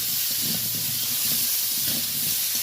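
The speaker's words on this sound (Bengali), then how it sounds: "যে কোনো তরকারিতে সবজিটা একটু ভালো করে ভেজে নিলে তরকারিতে অনেকটা ভালো হয়।" Cut vegetables with a little turmeric fry in a pan, giving a steady, dense sizzling hiss that stays constant and close throughout.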